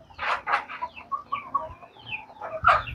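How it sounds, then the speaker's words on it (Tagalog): Several chickens cluck and chatter nearby in uneven bursts, with one louder squawk near the end, as they drink water mixed with molasses. "Mga manok natin umiinom"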